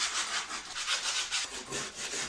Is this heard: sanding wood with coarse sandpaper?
yes